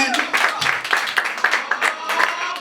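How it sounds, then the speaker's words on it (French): An audience at a slam poetry open-mic evening claps in a modest burst, with individual hand claps standing out close by in an uneven rhythm and some voices mixed in. "Est-ce qu'on peut applaudir pour nos amis?"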